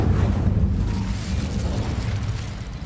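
An Incendio fire spell is cast in Hogwarts Legacy, giving a dense, roaring burst of flame that fills the space for about three seconds and then tapers slightly, loud and close.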